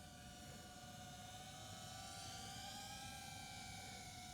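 A hobby quadcopter drone hovers with a steady, even high-pitched whine and buzz from its propellers, held at constant throttle with no voices.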